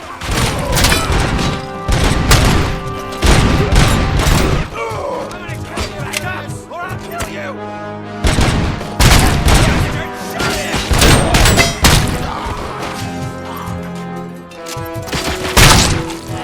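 Gunfire in the shooter game Robocop: Rogue City comes in loud, booming bursts of rapid shots. Quieter gaps with music and game sounds fall between the volleys.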